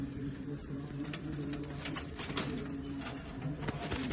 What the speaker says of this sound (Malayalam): ഈ ഒരു പ്രാവ് ഇത് ആശാന്റെ തന്നെ പ്രാവ്.